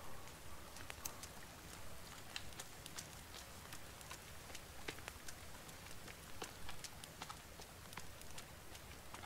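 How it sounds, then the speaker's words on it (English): Rain falls steadily in the survival video game The Forest, a dense, even patter of drops with scattered sharper ticks running throughout, fairly faint and with no voices. "Ah, because it's raining."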